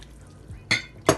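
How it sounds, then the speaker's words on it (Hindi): Water goes into a cooking pot holding turmeric, salt and roughly chopped onions for shola, arriving in two short splashy bursts with clinks against the pot, no talk. "पानी डालेंगे"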